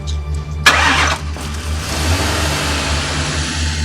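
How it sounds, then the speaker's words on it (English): A car that will not start gets cranked. A sharp catch is followed by a rough, steady engine drone that holds loud and close, with no voices over it. "This car is not starting."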